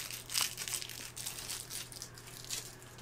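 Protective plastic film is peeled off a SuperBoy SFC handheld console, a short, quiet run of crinkling and crackling with a few sharper tearing bursts.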